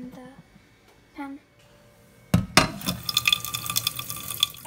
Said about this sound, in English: I just need to put some water in the pan.